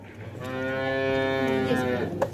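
A cow or bull at a yoke-team blessing festival for San Isidro in Patulu gives one long, sustained moo, rich and droning, close and steady for about two seconds over faint outdoor background.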